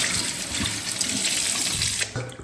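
Water running steadily from a brass swivel faucet extender aerator into a sink, a close, continuous splashing flow that shifts and thins near the end.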